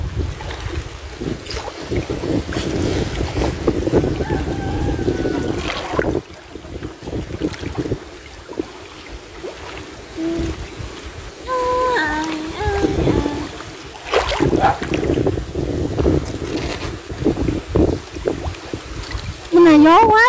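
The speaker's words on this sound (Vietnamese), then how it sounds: "Bữa nay gió quá, trời gió." A boat works along a river on a very windy day, with constant buffeting wind noise and rumbling engine and water wash throughout, while people talk and call out over it.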